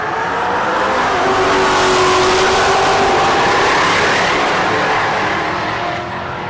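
An S550 Ford Mustang drag race car accelerating hard down the strip at Rocky Mountain Race Week, a loud sustained engine roar that rises and then eases slightly near the end.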